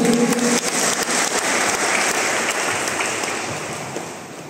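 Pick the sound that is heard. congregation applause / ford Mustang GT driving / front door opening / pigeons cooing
congregation applause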